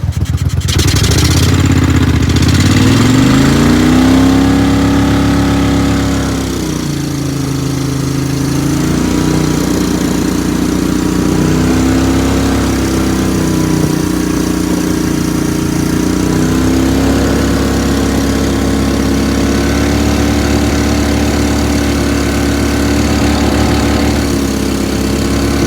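Mud Buddy outboard mud motor with dual carburetors runs steadily on a boat ride on Caddo Lake, a loud continuous rumbling engine drone that shifts pitch as the throttle changes, with no talk.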